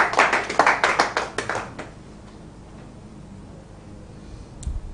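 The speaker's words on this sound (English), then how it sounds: "Please, a round of applause for Kosi One." A round of applause at an African live-streamed stage event, a brief burst of sharp claps for about two seconds that quickly fades, followed by a quiet room and a faint thump near the end.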